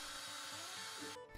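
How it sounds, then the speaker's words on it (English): Hand drill boring centered pivot holes in wood for box hinges, a steady continuous whir that stops abruptly near the end, with no voices. "the hinge crafter makes drilling perfectly centered pivot holes a simple task using your hand drill"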